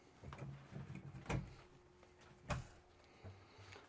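A large drawer in a front-kitchen destination RV sliding open and shut, giving a couple of faint, short thumps and rattles with soft scraping between them, close by and with no talking.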